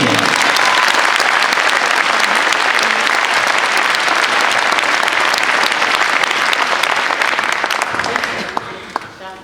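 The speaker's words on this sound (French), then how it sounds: "je vous demande encore de l'applaudir" A large audience at a French political list presentation gives sustained, loud applause for about eight seconds before it tapers off into scattered claps.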